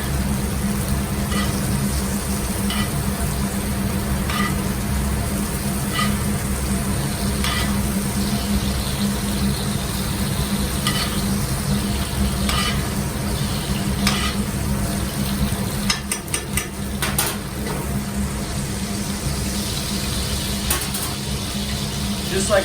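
A New York strip steak sizzles and spits steadily in a cast iron pan while being basted, with faint scraping and clinks from time to time.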